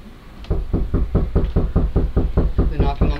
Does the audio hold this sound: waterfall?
no